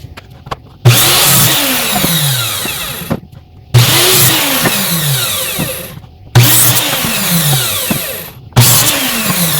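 A power saw rips through wooden boards for a dog house, cutting them to 32 inches in four loud, close passes, each a sustained whining bite into the wood separated by brief pauses, with no talking.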